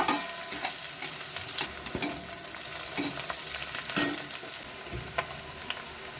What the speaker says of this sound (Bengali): পেঁয়াজটা আধ ভাজা করে ভাজবো, পুরোটা ভাজবো না